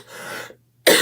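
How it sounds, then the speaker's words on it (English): A single sharp cough bursts out close and loud after a short, brief breath of rustling, with a clear pause of silence before it. "Sometimes you just got to cough it out too."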